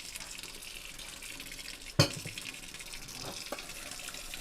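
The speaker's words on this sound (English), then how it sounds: "Add a little bit of water to it" Water poured into a copper pot during hand washing at a sink, a steady splashing wash with one sharp clink of metal midway, close and alone without talk.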